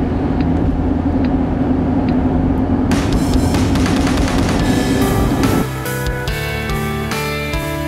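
Road noise and drone inside a car while driving, loud and continuous, with a thick low rumble and a layer of rattling and whirring that shifts partway through and eases slightly near the end.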